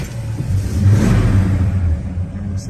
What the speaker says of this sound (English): So we're going to start up our 70 El Camino here for you.